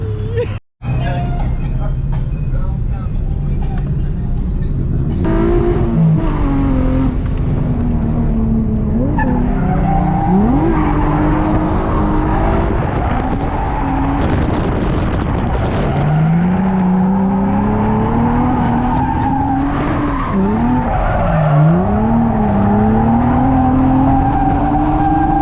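A car drifts at Milan Dragway with a loud, sustained engine roar and long wavering tire squeals rising and falling close by, and voices talk over it.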